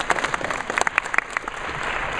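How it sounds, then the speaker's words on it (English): Convention panel audience at MAGFest claps, a dense run of many hands with sharp individual claps standing out, sustained and fairly close for about two seconds. "Another round of applause, everyone."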